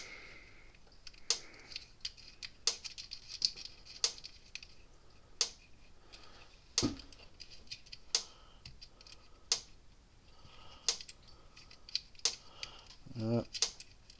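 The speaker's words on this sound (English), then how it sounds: "Put this wing nut on there." A wing nut being threaded onto a terminal of a 40-plus-year-old Sears electric fence charger with slightly dirty threads makes a series of small, sharp metallic ticks and clicks at an uneven pace, close and quiet.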